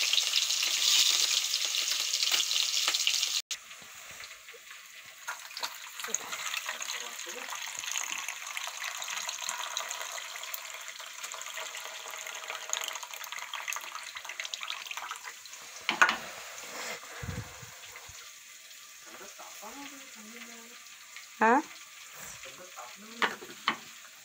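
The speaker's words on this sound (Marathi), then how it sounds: "इकडे आपले मिरची आणि लसूण छान फ्राय झाले।" Chili and garlic fry in oil for a cluster bean curry with a steady close sizzle, an early burst of running water, and occasional stirring clinks and brief voices.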